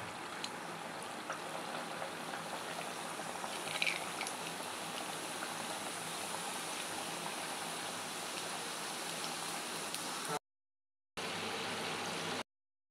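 Singaras (samosas) fry in hot oil with a steady, close, even sizzle and bubbling that runs unbroken for about ten seconds, then cuts out briefly before returning. No one talks.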